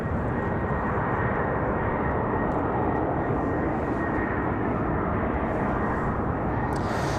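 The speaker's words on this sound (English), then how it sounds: "That Delta departure, Delta 1235, that one was headed off to Atlanta, Georgia, that 737." A Delta Boeing 737 jet departs Raleigh-Durham for Atlanta, its engines a loud, steady broadband roar that fills the clip without letup, with no voices.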